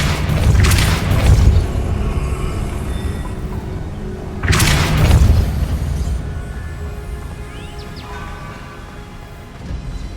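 Two heavy magical blasts from the Depulso spell in Hogwarts Legacy, each a deep booming burst with a rumbling tail, spaced a few seconds apart over a low ambient game background.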